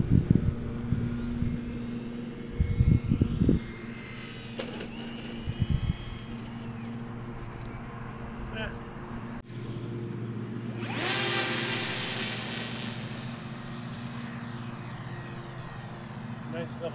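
A Dynam RC model airplane engine whines loudly at takeoff, a high electric buzz that swells and holds after some louder handling noises near the start.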